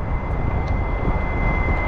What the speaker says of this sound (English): I wonder if that's this exhaust fan. That is loud.